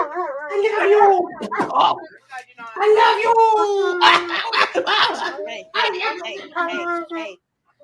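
A dog barks and howls in long, drawn-out wails close by, mixed with whimpering yelps over several seconds, with a person talking around it.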